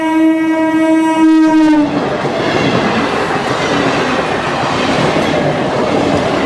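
A train passes a railway level crossing on the road from Kolkata toward Siliguri. A loud multi-tone horn sounds first, then the rumble and clatter of the passing cars continue steadily, close by, with no voices.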